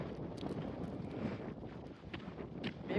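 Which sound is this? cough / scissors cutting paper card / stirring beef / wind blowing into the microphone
wind blowing into the microphone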